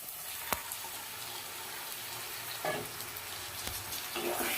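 Mutton rubbed with salt, turmeric, mustard oil and bay leaf frying in a pan, a steady broadband sizzle with a few sharper crackles and stirring scrapes, no talk.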